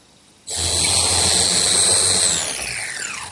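A router fitted with a 1/2 inch bit starts up and eases the edge of a wooden table top, a loud high whine that kicks in abruptly, holds steady, then sags as the cut finishes.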